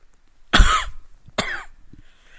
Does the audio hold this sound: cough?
yes